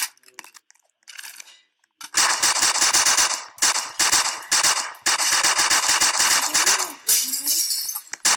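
Automatic gunfire from a weapon in a shooting video game: a few quiet sounds, then loud, sustained rapid bursts with short gaps between them, up close and without speech.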